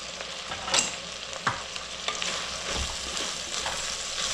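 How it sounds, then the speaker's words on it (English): Greens in a pan with onion, turmeric and chili powder are stirred with a soft steady sizzle, a few sharper scrapes of the spoon standing out near and alone. "And let's give a quick mix to it."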